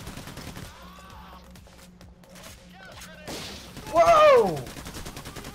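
Gunfire in the heist shooter Payday: The Heist, with sharp shots spread through the clip and a louder burst near the end, mixed with game sounds while a voice exclaims briefly.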